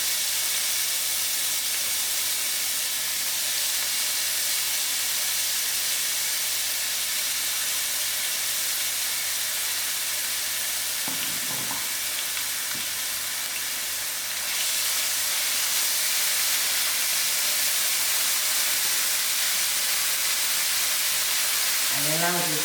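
Onions added to half a cup of hot oil sizzle with a loud, continuous hiss that swells midway as more go in, and a few clinks of a utensil come near the end.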